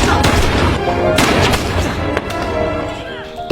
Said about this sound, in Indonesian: aksi baku tembak terjadilah di sana